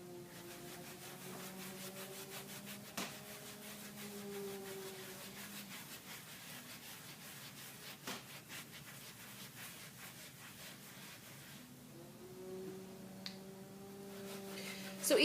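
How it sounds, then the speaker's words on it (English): Wax is worked with a rubbing motion into a textured, DIY-painted finish, giving steady soft scuffing strokes at close range, with brief pauses and a sharper knock or two along the way. "Just like we smoosh the paint, we're smooshing the wax."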